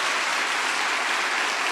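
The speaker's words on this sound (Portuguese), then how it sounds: "Pode aplaudir, porque isso é verdade." A church congregation applauds during a sermon on baptism in the Holy Spirit, a dense, even wash of clapping that stays loud and unbroken throughout.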